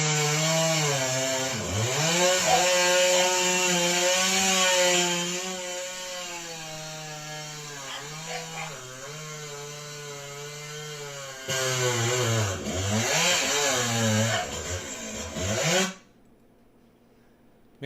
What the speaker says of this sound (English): It's just a short little video of Mark sawing with Rogi.